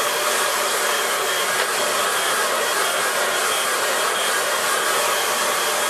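Steady, loud hair dryer blowing over a watercolour landscape painting, a continuous close airy roar with no pauses throughout.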